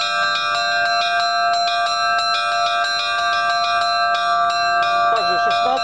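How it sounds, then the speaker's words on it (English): Russian-style church bells rung in a steady rhythm, with bright repeated strikes over a sustained, shimmering ring that continues throughout. "Up, second bell."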